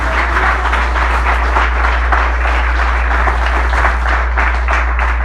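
Steady, loud applause from a large church congregation, continuous throughout over a low constant hum.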